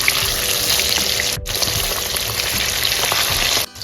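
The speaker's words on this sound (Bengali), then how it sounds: "এবার অপর পিঠ উল্টে হালকা করে ভেজে তুলে নেব" Rohu fish pieces fry in hot oil with a loud, dense, continuous sizzle and crackle close by, briefly cut off twice as if the sound drops out, with no one speaking.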